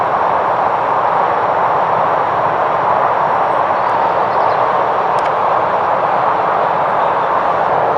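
A train runs along the railway beside a canal near the bottom lock of the Buckby flight on the Grand Union, near the M1, giving a steady loud broadband rumble that holds for the whole stretch.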